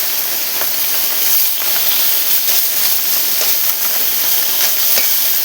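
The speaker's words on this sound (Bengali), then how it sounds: "আর এইদিকে যে মাছ হলুদ লবণ দিয়ে আমি ভেজে নিচ্ছি" Fish coated with turmeric and salt frying in hot oil: a dense, even, close-up hiss of spitting oil runs unbroken with faint pops, and no one speaks.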